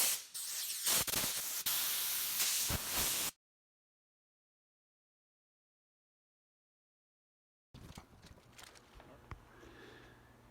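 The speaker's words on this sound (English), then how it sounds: "Super duper air nozzle." A compressed-air nozzle hisses in a loud, close blast with a few short spurts as it blows over dull, weathered car paint, cutting out abruptly before quieter rustling follows.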